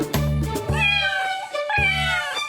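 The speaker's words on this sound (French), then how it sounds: "Ils miaulent toute la journée dans la drôle de ferme de Papy Henri." Several cats meowing on a farm, loud and close, with two long drawn-out meows and shorter calls in between, no voices over them.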